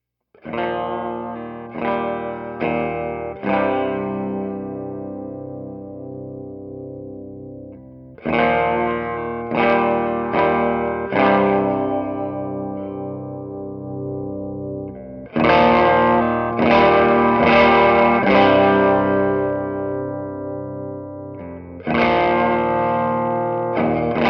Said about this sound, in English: those transients will get clipped and give a nice little compression feel to it